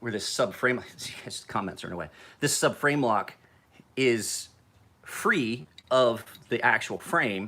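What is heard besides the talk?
None of the usual background noises is heard.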